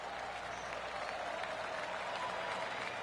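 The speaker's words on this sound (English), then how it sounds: "That deserves a golf clap." Polite applause from a gallery crowd in the golf video game 2K25, a soft even patter of clapping heard from a distance, continuous and low in level.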